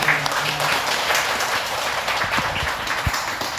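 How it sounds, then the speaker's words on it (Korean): An audience at a Buddhist service applauds for a monk, a steady, dense burst of clapping that fills the whole stretch. "주기스님께 큰 박수를"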